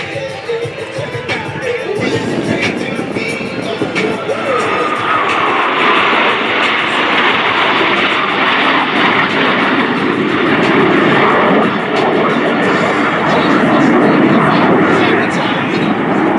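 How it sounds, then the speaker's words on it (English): US Navy Blue Angels jets flying the double Farvel at an air show at NAS Patuxent River: a continuous loud jet roar swells and holds as the aircraft pass, with an announcer talking over it. "From the right, the Blue Angel double Farvel."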